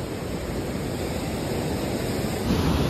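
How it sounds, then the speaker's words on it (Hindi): Strong river water flows loudly at night beside a main road near Jim Corbett National Park, a steady dense rushing roar that fills the whole clip with no voices. "क्या तगड़ा ही पानी चल रहा है यार पूरा"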